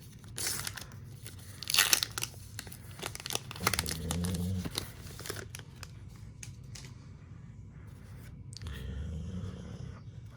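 A 2021 Topps Allen & Ginter trading card pack is torn open, with close, crinkly foil wrapper crumpling and tearing in uneven bursts.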